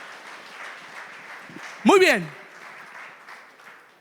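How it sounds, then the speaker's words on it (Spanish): A church congregation applauds, a steady wash of clapping from many hands that fills the room under a preacher's amplified voice briefly calling out. "Dale un aplauso al Señor, amén."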